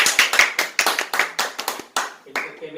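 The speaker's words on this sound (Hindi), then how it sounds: "मैं चाहूंगा कि सारे दर्शक इनको तालियों से स्वागत करें।" A small group claps to welcome a contestant on a home quiz game show, a few close distinct bursts of clapping in an uneven rhythm that end as a voice begins speaking.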